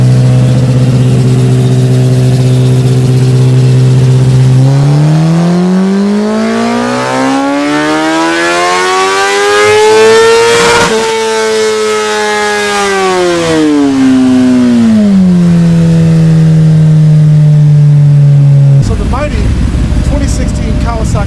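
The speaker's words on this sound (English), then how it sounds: "So now we've got the mighty 2016 Kawasaki ZX10 on the dyno. We're about to give it a run." A high-revving 2016 Kawasaki ZX10 superbike with a Graves slip-on exhaust, run on a dyno, climbs steadily in pitch to a screaming peak, then winds back down, loud and continuous, before cutting off abruptly.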